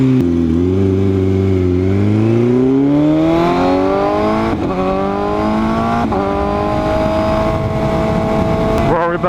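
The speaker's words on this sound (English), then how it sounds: "Ferrari back there, Ferrari up here." Ferrari sports cars driving past on a road, loud engines rising in pitch as they accelerate and rev, with gear-shift breaks and a close, continuous roar.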